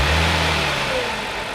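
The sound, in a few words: 2014 Audi S4 engine running with stock intake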